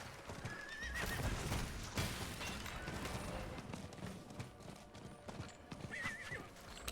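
Horse hooves clip-clop at a gallop in the Diablo IV video game, a steady rapid rhythm with a couple of whinnies, close and loud, alongside game effects and a background score.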